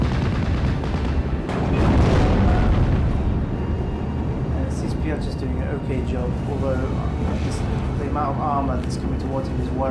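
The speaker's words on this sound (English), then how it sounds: "I'm just battering this tree line with artillery just to keep this line in the position that it is roughly." Artillery battering a tree line in Steel Division: Normandy 44, a dense low rumble of booms with one heavier swell, while a voice talks over it.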